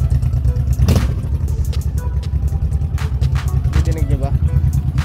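A Honda Shadow Sabre motorcycle engine with a lean-running condition idles with a close, throbbing rumble and clatter, rising briefly when revved and then settling back, while someone talks over it.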